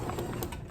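A sewing machine stitching forward a few stitches, giving a quick, even run of faint mechanical ticks in less than a second with no talking.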